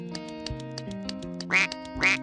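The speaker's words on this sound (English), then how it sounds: "Oh, look, the baby duck is crying." A baby duck in a children's construction video game gives two loud, cartoonish quacks near the end, over steady upbeat game music with plinking notes.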